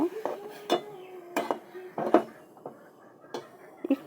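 Noodles are stirred in a metal pot after salt goes in, giving a series of close, intermittent clinks and scrapes of utensil against pot at irregular intervals, fairly quiet.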